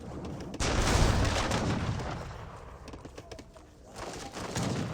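Heavy cannons fire in an Age of Empires 3 battle, producing a loud booming blast followed by rumbling, crackling battle noise that dips and then swells again, with scattered smaller shots mixed in.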